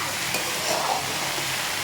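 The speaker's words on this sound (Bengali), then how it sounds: "এই যে ধুয়ে রাখা শাকগুলো দিয়ে দিলাম। এখন শাক রান্না হবে।" Washed greens hit hot oil in a pan and are stirred, filling the moment with a loud, dense, continuous hiss and crackle, close by with no voices.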